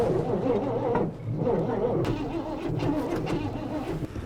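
A 1966 Chevy truck engine cranks over with a rough, chugging starter rhythm that stumbles and catches, close by, with brief voices in the background and a sharp clunk midway.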